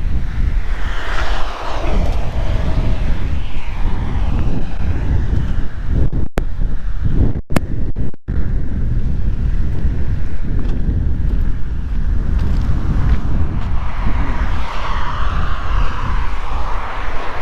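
Strong wind blowing outdoors, buffeting the microphone with a loud continuous roar that surges and eases, briefly cut by a few dropouts midway.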